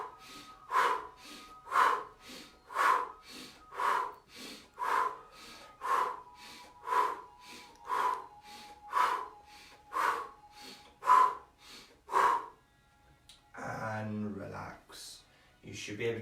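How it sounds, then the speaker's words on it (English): Fast abdominal breathing done while gripping the knees: about a dozen sharp, evenly spaced breath bursts roughly one per second, close and forceful, followed by a brief longer exhale and some noise. "Fast abdominal breathing, just gripping the knees."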